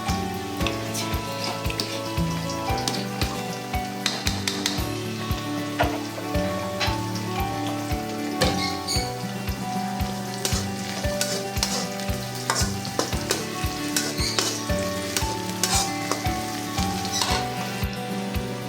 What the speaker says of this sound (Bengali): গরুর মাংসটা কষানো হচ্ছে, ভালো করে কষিয়ে নেব।